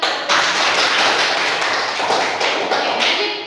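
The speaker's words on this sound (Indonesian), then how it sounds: "tepuk tangan" Students in a classroom applaud after a presentation, a dense burst of clapping that starts abruptly, stays loud and close for several seconds and then tapers slightly, with no talk over it.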